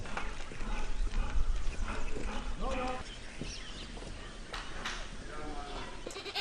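Goats bleat on a farm, several wavering calls rising over a busy background of shuffling hooves and movement, fairly close and loud.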